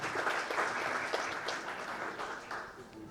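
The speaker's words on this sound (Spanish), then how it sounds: "Le damos aplauso, por favor," An audience applauds a team at an internal control and risk management training workshop, with steady, dense clapping running for the full stretch at moderate loudness.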